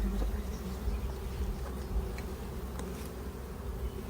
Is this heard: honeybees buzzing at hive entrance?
yes